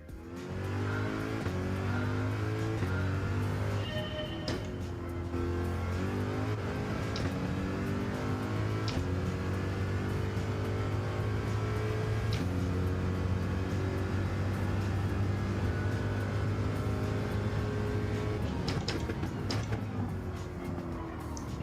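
A race car in a racing video game laps the Bathurst circuit, its engine droning loudly and continuously with repeated upshifts and downshifts, occasional tire noise and no talking.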